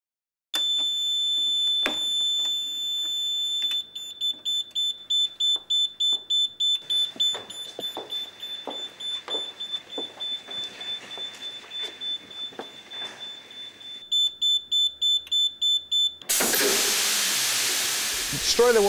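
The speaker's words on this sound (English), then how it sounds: "The system takes just over a minute to discharge, and because it's so close to us, it will create a lot of noise." A FIKE ProInert inert gas fire suppression system: steady electronic alarm tones and rapid pulsing beeps sound first, then a sudden, very loud, close rushing hiss of gas discharge takes over and continues to the end.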